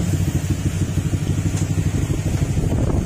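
A white Honda Click 125 scooter engine running after an overhaul, idling close by with a steady pulsing throb and a slightly uneven rhythm.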